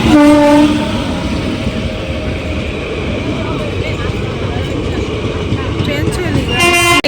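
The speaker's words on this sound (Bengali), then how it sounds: "এদিক থেকে ট্রেন আসছে ওদিক থেকে ট্রেন আসছে" A train rumbles past nearby with a steady loud roar, a horn toots at the start and again at the end.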